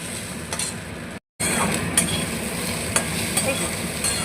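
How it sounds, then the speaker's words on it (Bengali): Sago pearls frying in ghee on a low gas flame, stirred with a spoon: a steady close sizzle with repeated scraping strokes and a brief break in the sound early on. "গ্যাসটাকে কমিয়ে আমি সাবুটাকে ভেজে রাখছি।"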